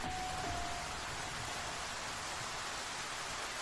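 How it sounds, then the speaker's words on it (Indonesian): Steady rain pours down outdoors in a village, a dense, even hiss that fills the whole stretch at constant loudness, with no voices. "Kalau hujan terus begini, takutnya banjir."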